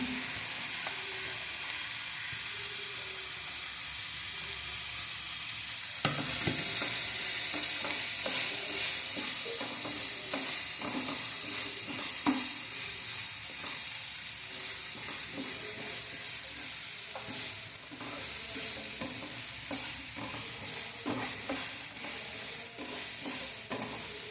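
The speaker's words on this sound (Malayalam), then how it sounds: "ഈ വെളുത്തുള്ളി 6 അല്ലി വെളുത്തുള്ളി ഇതിലേക്ക് ഇട്ട് കൊടുക്കാം" Six cloves of garlic fry in a pan for a Kerala okra and shallot tamarind curry, a steady close sizzle with a hissing burst as they drop in, followed by spoon stirring and scraping.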